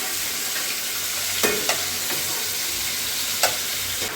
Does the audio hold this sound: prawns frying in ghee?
yes